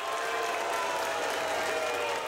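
Applause from the crowd at the Wisconsin State Fair opening day festivities as the governor takes the stage, a dense, steady wash of clapping that holds at full volume throughout.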